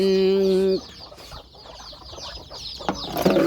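A chicken gives a loud, harmonic squawk at the start, then softer scattered clucks and rustling follow, with another brief burst near the end.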